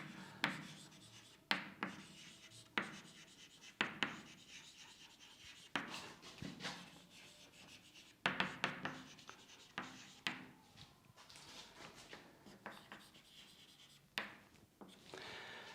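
Handwriting during a physics lesson on resistance: a series of soft, close pen or chalk strokes in short bursts, scratching and rubbing at an irregular rhythm, with no talk over them.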